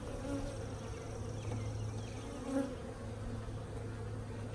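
Honeybees at a nucleus colony buzz softly and continuously, a low hum with a few individual bees briefly passing closer.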